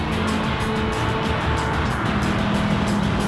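A Corvette ZR-1 races in Gran Turismo 7, its engine holding a loud, steady roar at high revs with a constant drone and no pauses throughout.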